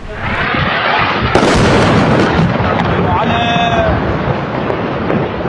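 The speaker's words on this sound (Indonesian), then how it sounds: "Inilah detik-detik serangan udara yang dilakukan Israel terhadap 2 desa di lembah Beka, Lebanon." Israeli air strike on two villages in Lebanon's Bekaa valley: a sustained loud roar of blasts and rumbling, with a sharp burst near the middle, rolling debris-like noise and a faint tonal whine beneath.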